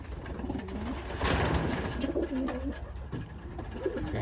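Racing pigeons coo in low, rolling phrases that repeat several times, close by, over a steady background hum.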